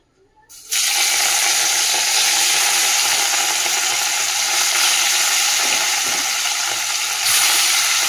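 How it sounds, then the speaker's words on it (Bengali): Pieces of fish dropped into well-heated oil burst into a loud, steady sizzle that starts abruptly and holds at full strength throughout, with a slight flare near the end. "তেলটা তো এই যে ভালো করে গরম করে নিয়েছি, আর মাছটা দিয়ে দিই"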